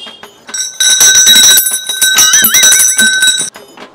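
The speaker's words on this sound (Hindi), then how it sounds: "वाह भैया क्या बेच रहा है घंटी बजा के?" A street food vendor's hand bell rings loudly and close, a sustained bright metallic jangle with wavering tones lasting about three seconds before it stops.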